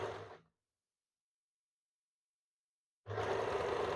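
Sewing machine stitching the waistband of a katori blouse, a short whirring burst that stops, a few seconds of silence, then the motor starts again and runs steadily, close and alone.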